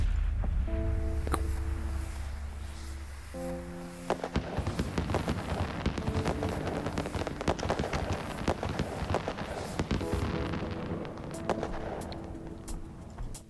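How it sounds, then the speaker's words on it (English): A firework fired at a ship in EVE Online sets off crackling bursts and pops over a low rumbling hum, with tonal sci-fi interface chimes near the start and again later, moderately loud with no talk. "Let's target lock him and hit him with a firework."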